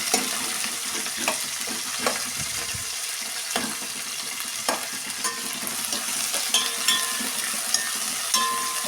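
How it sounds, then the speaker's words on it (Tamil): Onions with curry leaves sauté in a pan, giving a steady, fairly loud sizzle broken by repeated stirring scrapes at a loose rhythm, close up with no talking. "நல்லா வெங்காயம் வதங்கட்டும்."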